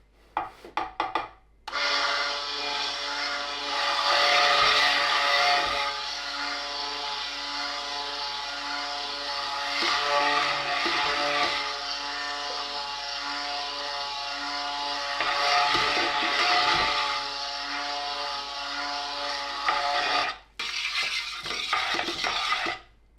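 Soap batter made with coconut milk is blended toward emulsification, giving a steady, close, whining motor hum that starts after a brief pause, runs for about twenty seconds with small dips and stops near the end.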